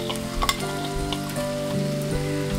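Puffed rice that has been rinsed is stirred into hot oil with sugar in a frying pan for murir upma, giving a steady sizzle with scraping stir strokes, close and moderately loud, no talking.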